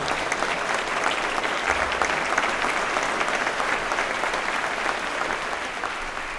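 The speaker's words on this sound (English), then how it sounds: "So give a round of applause for number 5 name, number 42 on, and let's speak." Dense, even applause from a large audience at a political speaking event, continuous crowd clapping holding steady throughout at moderate volume.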